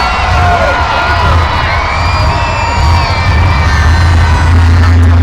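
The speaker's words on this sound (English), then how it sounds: "So it's got a really nice crowd here, y'all." A large stadium crowd at a Monster Jam show in Angel Stadium in Anaheim cheers and yells continuously, with loud whoops and children shouting in a dense, sustained roar.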